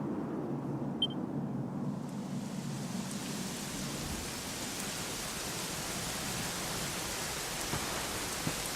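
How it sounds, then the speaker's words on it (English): Steady, even rainfall in the video game Dragon Quest XI, at the Dundrasil ruins, hisses continuously at a moderate level, with a faint high ping near the start and no voices. "it was raining like this the last time I ever saw her."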